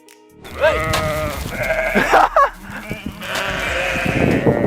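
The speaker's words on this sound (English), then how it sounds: "bighorn sheep are wild animals" Several loud, wavering bighorn sheep bleats ring out close by, overlapping one another in quick succession with rustling in between.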